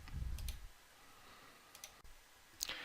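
Quiet computer mouse clicks, a quick double click at the start, another pair a moment later and a final louder click near the end, with near-silence between.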